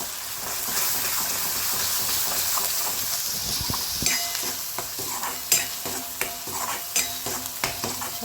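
A masala mix with salt is stirred in a frying pan, a continuous close sizzle carrying occasional scraping strokes and sharper clinks of the spoon against the pan in the second half, with no talking.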